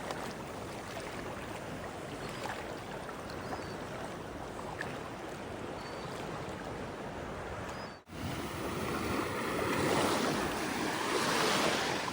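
Black Sea waves wash and roll nearby on a beach at Kurortne, Odesa region, with wind buffeting the microphone; after a brief cut, the surf grows louder and rougher.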